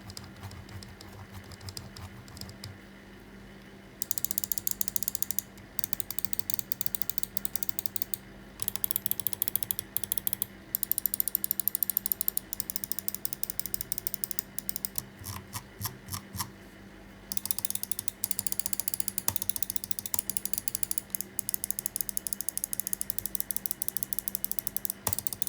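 Clicky, ratcheting notches of a VortexSeries Inno X1 mouse wheel being scrolled close up, coming in quick bursts separated by short quiet gaps.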